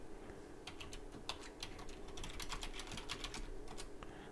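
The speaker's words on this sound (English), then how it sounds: "As soon as I can type." Quick, uneven keystrokes on a computer keyboard as an email address is typed, soft and close, with short pauses and bursts of clicks and no voice.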